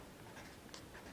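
A marker or chalk writes on a board with faint, soft scratching strokes, quiet against a low background hiss, and no talking.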